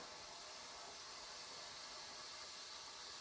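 A pressure canner loaded with dried lima beans comes up to steam, giving a steady, quiet broadband hiss that holds even and unbroken throughout with no voices.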